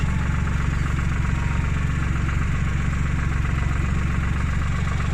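A Tümosan tractor engine pulls a cultivator between apricot rows in second gear, running at a steady, loud, continuous drone with a low rhythmic throb throughout.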